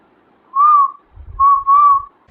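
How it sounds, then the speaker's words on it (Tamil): A man whistles a short tune, close and clear: one sustained note, a pause, then two more joined notes, with soft low rumbling beneath the later ones. "இங்க ஒருத்தன் வந்து நின்று விசில் அடிச்சிட்டு இருக்கான்"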